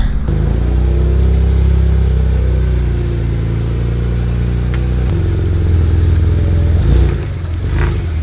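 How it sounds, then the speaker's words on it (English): A BMW with an N54 engine runs loudly and steadily on a test drive, its deep drone holding close throughout with slight shifts in pitch and an uneven, not-quite-right tone. "Now it's time to give it a nice little test drive."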